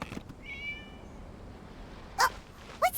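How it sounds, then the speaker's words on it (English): A cat in the video game Genshin Impact gives a short, thin meow, then two brief sharp chirps follow near the end against quiet ambient background, with no speech. "It was just a cat."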